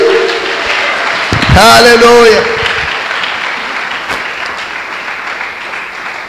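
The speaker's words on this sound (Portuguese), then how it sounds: "Podemos dar uma salva de palmas para Ele?" A church congregation breaks into applause, a dense wash of clapping that swells and then fades. A voice rings out briefly in a sung exclamation partway through.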